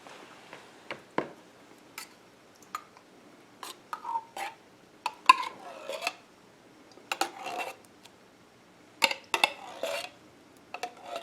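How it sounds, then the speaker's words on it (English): Cheddar cheese soup goes into a taco tater tot casserole dish with scattered soft scrapes, taps and wet plops of a spoon against the can and dish, quiet and intermittent with short gaps. "now I'm going to be adding my cheddar cheese soup"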